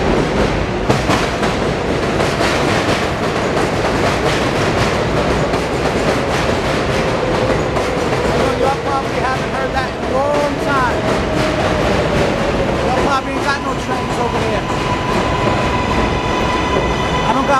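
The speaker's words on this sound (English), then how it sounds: "Here comes the train, y'all." A train rolls past a few blocks from a doctor's office in Woodhaven, Queens, New York, a steady loud rumble with rhythmic wheel clatter and squealing tones building toward the end, heard alone without talk.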